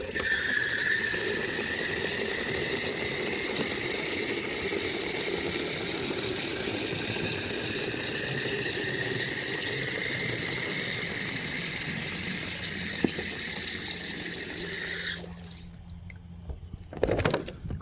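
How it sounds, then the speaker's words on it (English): Water runs steadily into gallon containers for a shower, a continuous close hiss and gurgle that holds for about fifteen seconds before cutting off, followed by a few faint handling knocks. "Gotta just fill this water up so I could take a shower"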